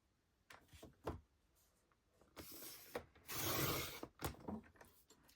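A blade cutting a paper strip for a scrapbook layout makes short scraping and rasping strokes, with a couple of louder sustained rubs near the middle. The sound is close and fairly quiet, with no speech.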